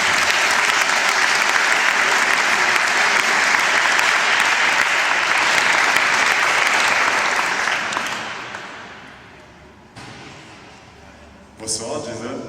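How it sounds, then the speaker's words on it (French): A crowd claps for a basketball player being introduced at a CEP Lorient team presentation, with loud, sustained applause for about eight seconds before it fades away, leaving quieter room noise and a brief stir near the end. "on peut l'applaudir"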